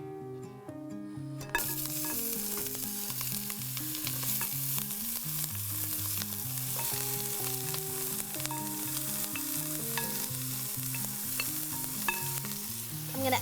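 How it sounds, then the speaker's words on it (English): Sliced Chinese eggplant, salted, rested and drained, sizzles steadily in a hot pan as it fries, a continuous close hiss over light background music. "Now I'm gonna add this eggplant to the pan."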